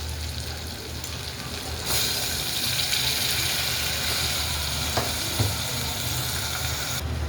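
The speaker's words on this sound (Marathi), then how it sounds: "आता तांदूळ धुतल्याच्या नंतर टाकले. आता आपण एकदा खालीवर करून घेऊया तेलामध्ये." Washed rice stirred into hot oil in a pan for spiced masale bhat, sizzling as a steady bright hiss that swells when the rice goes in, with faint scraping from the stirring.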